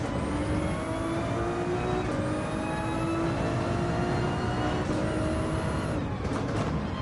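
A race car in Gran Turismo 7 Manufacturer Cup practice revs hard and loud. The engine pitch climbs repeatedly, broken by about three quick gear shifts, with no voices.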